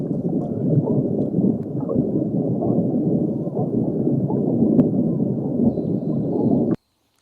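Continuous low gurgling and churning rumble of an air slug moving through an underground water pipe, steady and muffled, then abruptly cut off near the end.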